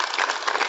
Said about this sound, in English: Can we please welcome all of them with a big round of applause?